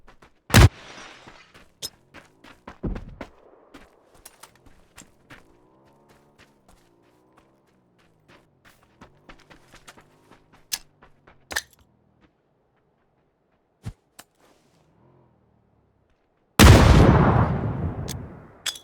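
Grenades are thrown and burst in the PUBG video game: sparse sharp cracks and thuds scattered over a quiet stretch, ending in one loud, long explosive roar that decays over the final seconds.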